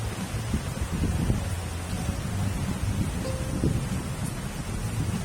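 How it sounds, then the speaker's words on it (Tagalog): Torrential rain from Typhoon Hanna beats down in a loud, unbroken wash, with gusty rumbles mixed into the dense pour. "grabing lakas ng ulan dito sa amin"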